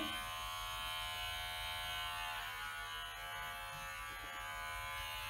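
Electric hair clipper running during a home haircut of a child, a steady close buzzing hum that holds throughout with only slight variation.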